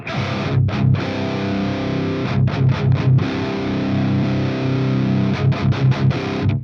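Heavily saturated, distorted electric guitar chords through an overdrive preamp pedal into a Mesa/Boogie Rectifier Roadster amp, ringing loud and sustained, with brief breaks and quick re-strikes.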